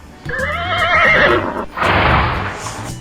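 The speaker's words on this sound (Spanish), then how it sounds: "El caballo relincha y resopla." A horse gives a loud, wavering whinny lasting about a second and a half, then breaks into a breathy, noisy snort and blowing sound, close and clear with no talking.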